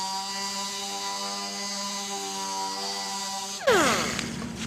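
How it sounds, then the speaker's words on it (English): An electric power sander runs steadily across a wooden table top with a constant tonal whine, then its pitch drops and its texture roughens as it is pressed harder into the wood. "you want your sander to go in the same direction the grain is going"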